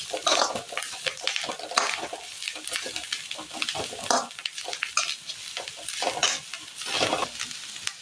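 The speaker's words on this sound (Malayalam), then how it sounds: "ഇതിലേക്ക് വഴറ്റി വെച്ചിരിക്കുന്ന ഉള്ളിയുടെ കൂട്ടിട്ട് കൊടുക്കാം." Onion mixture with cashews sautéed in a pan for a Kerala dish, with steady close stirring and scraping over a continuous sizzle.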